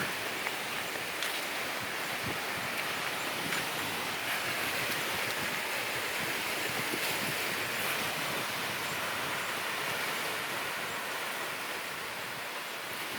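Waves break on a small beach in India, giving a steady, continuous wash of surf that stays even and moderately loud throughout, with no voices.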